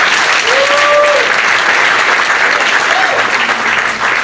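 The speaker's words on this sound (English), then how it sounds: "Please give her a big round of applause." An audience at an Eid ul Fitr celebration gives a sustained round of applause, many hands clapping thickly and evenly, with a faint voice or whistle briefly rising above the crowd.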